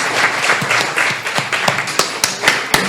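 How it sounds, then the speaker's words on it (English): Loud applause for the panelists at a Black Fine Art Month salon talk at the DuSable Museum, close dense clapping with a few sharp, prominent claps standing out near the listener. "Let's give a round of applause to our panelists."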